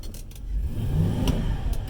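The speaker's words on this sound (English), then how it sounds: "you can hear the motor revving" A car engine revs in reverse with a slipping transmission, a rising low-pitched drone that swells and holds, with a few faint clicks over it.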